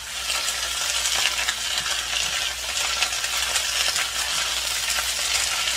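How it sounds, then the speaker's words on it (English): Chinese greens stir-fry in a hot pan, giving a loud, steady hiss of frying with light scraping and clinks as they are tossed, continuous throughout with no talking. "Love to cook vegetable. Just love to hear the sound"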